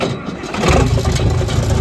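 A tractor engine starts in sub-zero cold, its loud rough cranking catching and settling into a steady, heavy running rumble close by.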